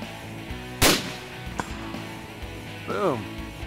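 A single sharp rifle shot fired with cold Australian Outback ammunition cracks out loud over background talk and music, followed by a short echoing tail.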